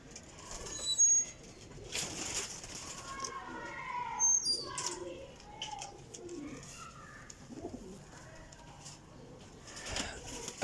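Pigeons coo repeatedly in a loft of flying pigeons, soft throaty calls rising and falling at close range, with a brief flutter of wings and someone talking in between.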